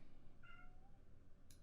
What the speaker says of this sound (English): That is the cat, my neighbor's cat that likes to sneak in.